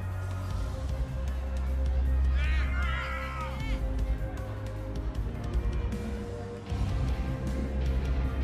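A steady, loud arena crowd roar fills a WWE 2K20 wrestling match, a dense hubbub of cheering voices that swells and dips throughout, with commentators talking over it.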